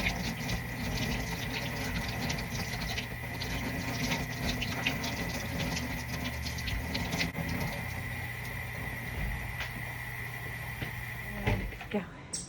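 Water runs steadily for a rinse during a veterinary surgical nursing task, a continuous close rushing with occasional clinks, and a person speaks over it.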